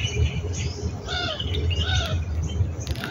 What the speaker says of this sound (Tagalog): Ang daming ibon dito sa lugar na to.